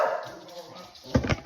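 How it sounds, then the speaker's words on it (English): A dog barks at birds, two quick, fairly close barks near the end after a quieter stretch. "He's just barking at the birds."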